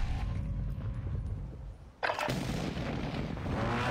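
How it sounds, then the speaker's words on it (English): Shooter video game gunfire from enemies firing from above: heavy artillery-like bursts and booming shots, loud and dense, with an abrupt sharp blast midway followed by continued rumbling fire, no speech. "We're getting shot from the top too."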